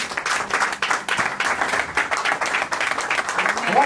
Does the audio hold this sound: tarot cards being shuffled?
no